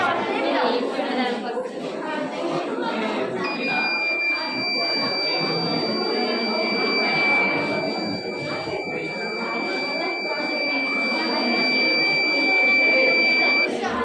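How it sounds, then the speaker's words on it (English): A high electronic buzzer tone from a homemade automated buzzer circuit starts a few seconds in and holds steadily to the end, with people talking and chattering underneath at a district science fair. "After 10 seconds, the buzzer automatically stops automatically."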